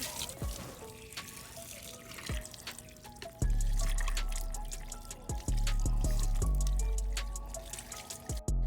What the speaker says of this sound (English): Get a water hose and hose it off.